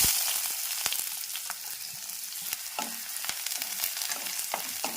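Onions hit hot oil in a pan while cooking nalla fry, a bright continuous sizzle punctuated by the clicks and scrapes of stirring.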